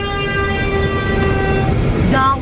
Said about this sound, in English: Why are you honking when you literally saw us going straight?